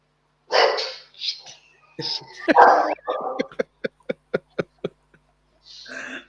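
A dog barks in a quick string of sharp, evenly spaced yips after a few rougher whining barks, close and clear against silence.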